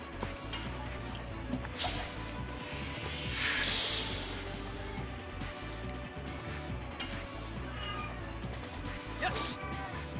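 A cat meows in The Legend of Dragoon, a few short cries over a busy, dense game soundtrack with clattering impacts, fairly loud and close.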